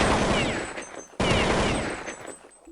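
Rapid machine gun fire in Counter-Strike 1.6 on a jailbreak server comes in two dense, loud bursts separated by a short break. Each burst is a continuous rattle of overlapping shots.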